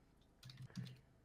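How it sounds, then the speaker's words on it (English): Keyboard typing during a Warhammer tabletop gaming session, a short run of soft clustered key clicks that comes in around halfway through, fairly faint against a quiet background with no talking. "you can hear the typing from Frost"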